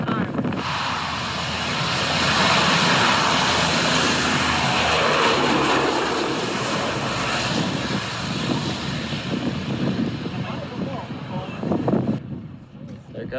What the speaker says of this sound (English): We're standing in the jet wash of what was supposed to be our flight off the island.